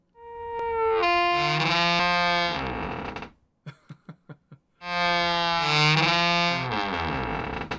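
A noisy old wooden door in an old house creaks loudly, its drawn-out, pitched groans processed into a distorted, harmonically rich whine; a quieter run of short clicking creaks sits between two long sustained squeals.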